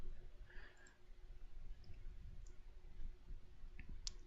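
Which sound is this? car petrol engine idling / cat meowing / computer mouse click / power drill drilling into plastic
computer mouse click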